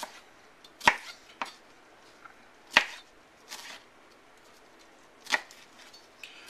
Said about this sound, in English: you want to coarse chop these, not a mince, a nice coarse chop